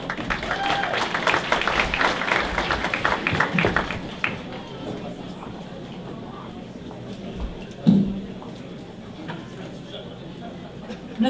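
A crowd at the Cedar Festival Halifax opening ceremony applauds for several seconds after a speech, a dense patter of clapping that fades out around the four-second mark. Quiet room sound and talk follow.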